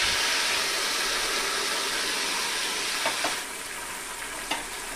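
Ash gourd frying in a pan with mustard paste, a loud continuous sizzle with a few scraping stirs toward the end, no voices.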